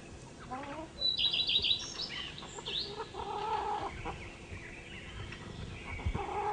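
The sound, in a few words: rooster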